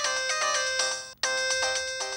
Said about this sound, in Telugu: మీకే ఫోను జయంతి గారి దగ్గర నుంచి అనుకుంటా.